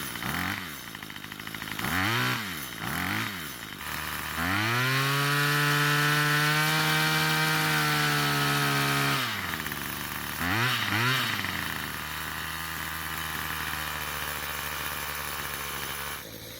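A gas pole saw's small engine, with a loose bolt from engine vibration, revs up and down a few times, then holds a steady high whine for several seconds before easing off and revving again.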